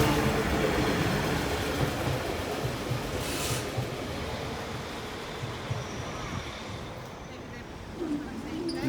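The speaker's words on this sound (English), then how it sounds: "Here's the train now." Broad rushing rumble of a train passing over the Brayford level crossing, loudest at first then gradually easing, with a brief higher swish midway and faint talk in the background.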